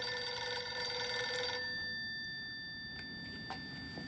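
Telephone in the police box from Doctor Who rings with a bright, steady electronic trill that stops partway, leaving quiet room tone with a couple of faint clicks.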